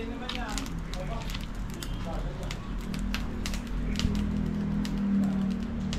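Charcoal fire crackles steadily under a large batch of meat being grilled, with sharp pops scattered throughout while people talk over it nearby.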